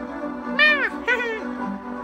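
A pet cat gives two short, rising meows at close range, separated by a brief pause, with a soft indoor background and no clear speech over them.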